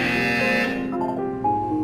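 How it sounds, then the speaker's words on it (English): A steady electronic buzzer in Portal 2 drones with a harmonic tone, shifting pitch partway through, loud and continuous. "When you hear the buzzer, look down at the floor."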